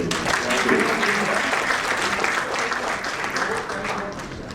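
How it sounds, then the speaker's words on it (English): Applause from a supply chain conference audience at the close of a panel, a dense, steady wash of many hands clapping that runs the whole time and fades slightly toward the end. "Big round of applause"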